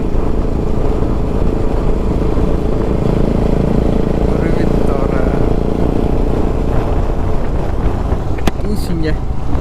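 A motorcycle ridden through the countryside near Cholavandan and Kuruvithurai along the Vaigai river gives a loud, continuous engine drone blended with steady wind rush throughout.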